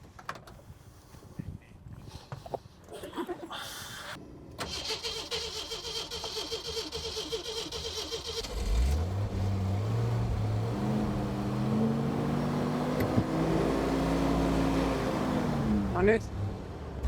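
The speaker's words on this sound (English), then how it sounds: "this is the very first time actually when we try to start and drive a car on syngas from this system" A car engine running on syngas from a gasifier system cranks with uneven knocks, then catches and settles into a steady, rising and falling idle and rev. People talk nearby over the start.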